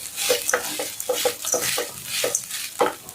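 Busy stirring and sautéing in coconut oil in a pan, with a steady hiss of frying under repeated scraping and clinking strokes, close and fairly loud with no talking.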